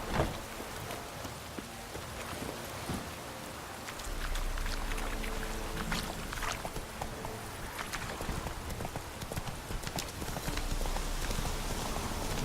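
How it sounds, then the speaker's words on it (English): Roach, the horse in The Witcher 3, gallops in a steady rhythmic clip-clop of hooves that quickens and grows fuller partway through, mixed with faint game ambience. "Run, Roach."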